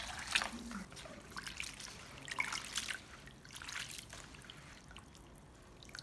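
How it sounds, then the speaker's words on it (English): Warm water trickles and splashes over pork skin being rinsed clean, coming in a few short bursts of running and sloshing water, fairly faint and close with no talking. "Then add warm water to rinse clean."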